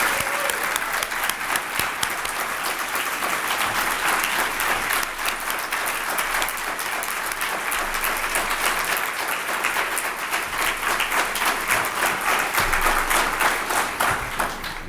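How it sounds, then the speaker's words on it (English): Sustained audience applause at the 2018 Eden Alternative International Conference welcoming session, a dense, even roar of many hands clapping for about fifteen seconds with a faint voice underneath. "Let's have another round of applause for Chris."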